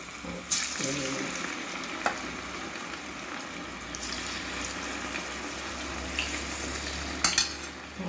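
Cauliflower florets sizzle and crackle in hot oil in a pan, a steady frying hiss with occasional sharper pops and a few clinks of stirring.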